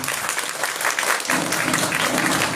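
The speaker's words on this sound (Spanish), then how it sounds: "Fuerte el aplauso a Marcos, por favor." An audience at an art exhibition opening applauds for Marcos, steady close clapping from a modest crowd lasting throughout without any voices.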